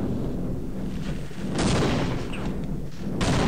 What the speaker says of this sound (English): It's a bull squid, so we'll just grenade him to death.